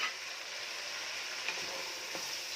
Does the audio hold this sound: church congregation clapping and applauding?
no